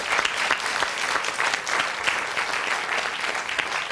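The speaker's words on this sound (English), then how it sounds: "Give him a round of applause." A television game-show studio audience claps steadily, a dense, even burst of applause filling the whole few seconds with no talk over it.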